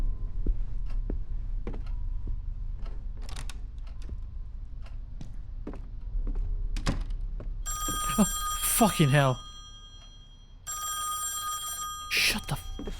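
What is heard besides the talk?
telephone ringing in the video game Song of Horror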